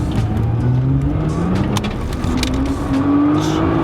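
A Nissan R35 GT-R with manual shifting pulls hard in second gear, its engine note climbing steadily and loudly with rising pitch, heard close and continuous.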